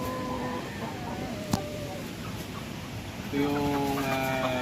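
Native chicken chicks peeping in a close, steady chorus of thin high chirps under a brief spoken phrase, with the peeping growing louder toward the end.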